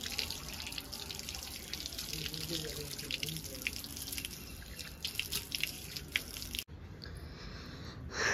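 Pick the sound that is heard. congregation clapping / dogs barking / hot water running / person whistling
hot water running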